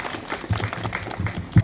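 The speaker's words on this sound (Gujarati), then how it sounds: "એમના માટે એક તાળી પાડી દો જોરદાર." An audience at a ceremony honouring women's tug-of-war winners claps in a short, lively burst of scattered hand claps nearby.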